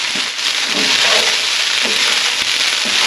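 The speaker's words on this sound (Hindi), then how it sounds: "ये चावल फ्राई कर लिए हैं।" Boiled rice frying in a pan for egg fried rice, with carrots mixed in, gives a loud, steady close-up sizzle with faint scraping of stirring underneath and no talk.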